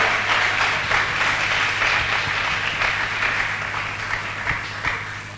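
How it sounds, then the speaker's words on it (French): Congregation applauding loudly at a church service led by a prophet, a steady dense wash of clapping and cheering that holds strong throughout, with a low musical drone underneath. "Acclamons-le très fort, très fort, très fort, très fort."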